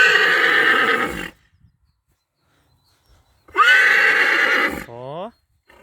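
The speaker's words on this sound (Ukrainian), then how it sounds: "Зачув, зачув певне коні, хтось їде, може." A horse, an Absztyfikant stallion, whinnies loudly twice, close by: a long shrill neigh, a pause of silence, then another ending in a quavering, snorting trail.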